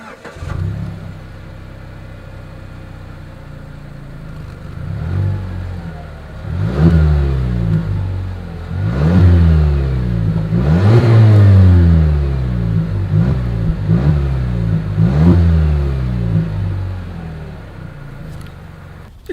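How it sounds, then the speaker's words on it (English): A 2020 Mazda CX-9 SUV with dual exhaust outlets and chrome tips idles, then revs through several loud, rising bursts, each falling back toward idle, heard up close with no talking. "As always, here is that exhaust clip."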